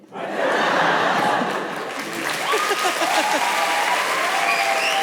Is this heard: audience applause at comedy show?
yes